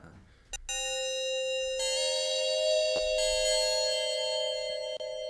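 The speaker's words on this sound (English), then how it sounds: "let's go to the DX bell." DX bell synth preset played on an iPad music app rings out as bright, sustained bell tones with a strong reverb tail, starting after a brief click and holding steady for several seconds.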